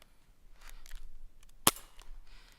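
A single sharp, snappy shot from a plastic Crosman airsoft pistol, close and loud, with faint handling noise before and after.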